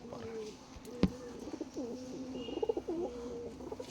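A pigeon held in the hand gives soft, close, repeated throaty coos, with one sharp knock partway through and faint handling noise underneath.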